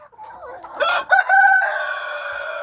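A rooster crows loudly and close up inside a henhouse, while chickens cluck around it, the crow rising into a long drawn-out call.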